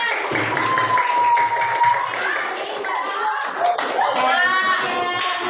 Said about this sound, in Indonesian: Ada tepuk tangan buat teman kalian.